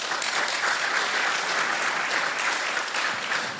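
Audience at a live podcast recording bursting into applause, dense, loud clapping from a packed room that holds steady for a few seconds.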